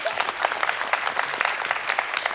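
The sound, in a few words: audience applause in a TV show studio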